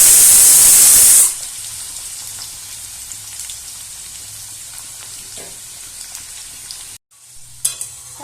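Potatoes frying in hot oil in a wok start with a loud, roaring burst of hiss, then settle into a softer, steady sizzle. A brief cut of silence comes near the end.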